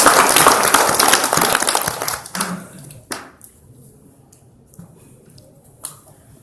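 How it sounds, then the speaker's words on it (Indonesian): Audience applause for a speaker at a book discussion event, a dense burst of many hands clapping that fades out after about two seconds, followed by scattered faint taps and quiet room noise. "Kami persilakan, tepuk tangan untuk beliau."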